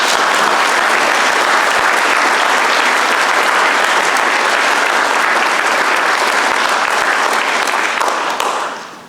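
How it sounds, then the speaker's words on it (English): Dense, sustained applause from an audience at a middle school ribbon cutting marking a renovation, loud and steady for about nine seconds before tapering at the end. "Let's give these folks a round of applause."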